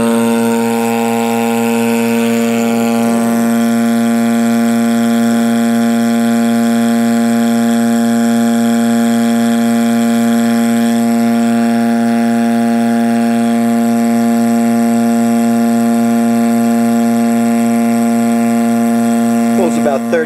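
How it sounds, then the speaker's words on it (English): A 1/6 horsepower General Electric motor drives a vacuum pump, producing a loud, constant, even hum with a strong steady tone that runs unbroken for the whole stretch, heard alone with no talking. "let's turn it on. This is a 1/6 horsepower General Electric motor."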